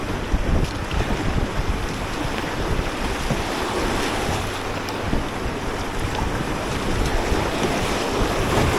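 Canoe on New Zealand's Whanganui River, with steady rushing water and wind noise filling the whole stretch, a constant close wash of river flow around the hull rather than distinct paddle strokes.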